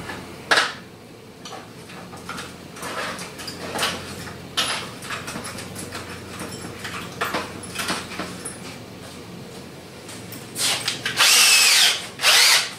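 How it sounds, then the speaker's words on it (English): A power drill whirs in repeated short bursts while working on a car's hard fuel line, with brief pauses and clanks between runs and a louder, longer burst near the end. "Invest in some drill bits."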